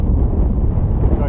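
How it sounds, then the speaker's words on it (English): Strong outdoor wind buffets the microphone with a continuous, loud, low roar from start to finish. "Whoa, the wind is making that very difficult."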